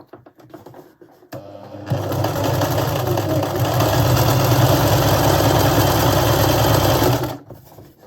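A sewing machine runs steadily, stitching together scrappy fabric strips including batik, with a loud continuous motor whir lasting several seconds after a brief start, no talking.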